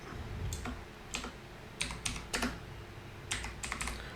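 Someone types a short word on a computer keyboard. The close, crisp key clicks come in small clusters with brief pauses between them against a quiet indoor room.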